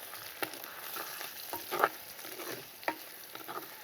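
Sliced onion and green chillies fry in a pan, a steady soft sizzle broken by scattered clicks and scrapes of stirring, close and moderately quiet with no talking.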